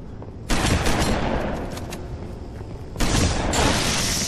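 Loud Halo 3 gunfire in a custom multiplayer match rattles in two close, heavy bursts of rapid shots with booming impacts, the first starting half a second in and the second around three seconds, alone without talk.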